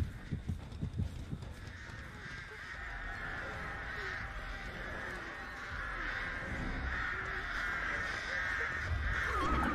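Crows caw repeatedly in the Dead by Daylight game, a harsh, steady cawing chorus that builds over a murky ambient backdrop.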